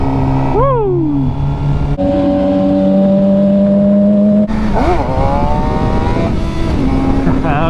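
Sport bike engine revving hard in first gear at about 40 during beginner wheelies, a loud rising and falling whine with sustained high-rev stretches and pitch sweeps, close to the microphone with no talk.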